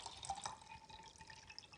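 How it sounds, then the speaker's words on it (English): Water poured from a cup into a bowl set on top of it while making a snow globe, a soft, steady trickling and splashing heard up close for a couple of seconds. "you want to have your bowl and you want to have your water"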